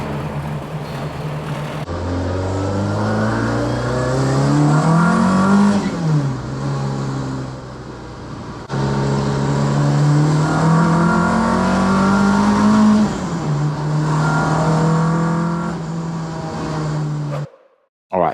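A Ford Escort ST170 Mk1 is driven on faster roads, its engine loud and close as it revs and climbs through the gears, pitch rising and dropping at shifts, then cutting off abruptly near the end.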